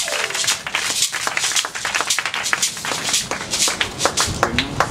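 Church congregation clapping in acclamation during a French-language service, brisk and uneven hand claps from many people close by, rising and falling in dense bursts.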